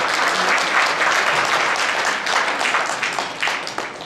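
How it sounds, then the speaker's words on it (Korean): A crowd at a Korean hometown association's New Year gathering and general meeting claps vigorously, a thick, close wash of applause that stays loud before tapering slightly at the end. "우리 초대 회장님께 뜨거운 감사의 박수를 부탁을 드리겠습니다."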